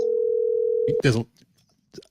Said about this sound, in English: I'm gonna call Billy Stanley right now and give him a hard time